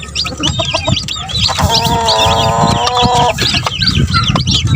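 Chickens clucking and chicks peeping around a coop, dense overlapping calls with a steady chattering flock sound close by, a brief sustained warbling cackle in the middle, no talk.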